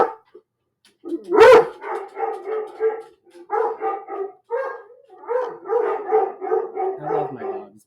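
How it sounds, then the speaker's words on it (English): A dog barks and howls at a passing emergency vehicle, starting with one loud sharp bark, then long wavering howls in repeated bursts, close and loud, with a second lower yip near the end. "my dog's going nuts at a passing emergency vehicle."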